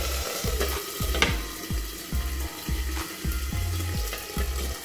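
Green chillies crackle and sizzle while frying in oil in a covered pan, a steady close hiss broken by sharp pops repeating at a fairly regular rhythm, with no voices.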